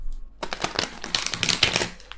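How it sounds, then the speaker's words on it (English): A deck of tarot cards is shuffled up close after a short pause, giving a dense, rapid run of papery riffles and slaps that carries on to the end. "bear with me as I try to shuffle these cards like a normal person."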